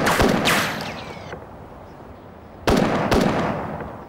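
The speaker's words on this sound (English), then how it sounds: "he fires at the ground." A gunshot fired at the ground: sharp, loud blasts with a long echoing decay, one pair early and another pair of cracks after a quiet gap, no speech.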